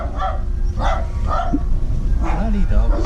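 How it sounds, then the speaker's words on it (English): Several dogs bark repeatedly close by, sharp yaps breaking through steady background noise as someone talks over them. "Bloody dogs."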